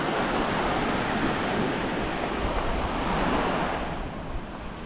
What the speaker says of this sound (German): Genießt für einen Moment das Meeresrauschen und diesen weiten Blick über den weißen Sand.